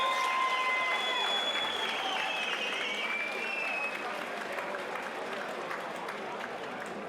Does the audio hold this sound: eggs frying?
no